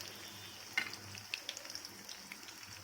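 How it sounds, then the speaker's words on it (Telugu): Leftover dosa batter fritters (punugulu) frying in oil over a medium flame, a soft, steady sizzle close by with faint pops and a light stir partway through. "మీడియం ఫ్లేమ్లో నేను వేయించుకుంటున్నాను"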